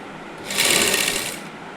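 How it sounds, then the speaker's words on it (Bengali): A sewing machine stitches a housecoat in one short, close burst of rapid mechanical clatter lasting under a second, with quiet before and after. "এরকমভাবে এই দিকের মুখটা এরকমভাবে সেলাই করে নেবেন।"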